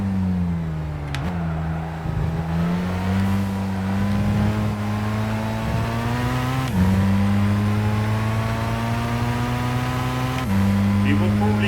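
Race car engines in Gran Turismo 5, a Nissan Skyline and a Porsche, droning loudly at high revs with repeated gear shifts dropping and climbing the pitch, while a voice talks over them.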